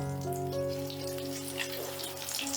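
Soy chunk fritters frying in oil over a medium gas flame, a steady close crackle and sizzle with a faint tonal hum underneath.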